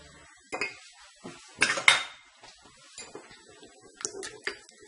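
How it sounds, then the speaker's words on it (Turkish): Hair mask ingredients being whisked in a bowl, heard as scattered clinks and scraping taps of utensil against the bowl in a few short bursts, fairly quiet and with no talking. "Ve bunlar iyice çırpılacak bu saç maskesi yapılacak."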